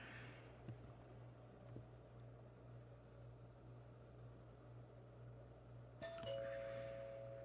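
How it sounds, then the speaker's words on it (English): A faint electronic doorbell chimes once near the end, its tone ringing out over a quiet room with a steady low hum. "And that's my doorbell."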